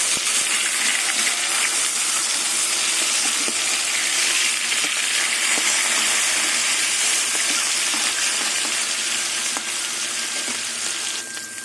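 Katla fish pieces, already browned on one side, are flipped and fry on in hot oil in a kadai, giving a continuous, close hissing sizzle that tapers slightly at the end.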